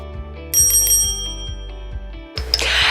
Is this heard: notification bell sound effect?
yes